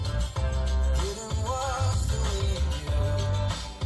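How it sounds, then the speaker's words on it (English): Music playing through the standard six-speaker audio system of a Hyundai Creta, with a full beat, bass and melodic lines, steady and fairly loud inside the cabin. "I mean, for a standard 6-speaker audio system, it's not too bad."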